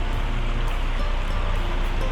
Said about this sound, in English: A beautiful little creek.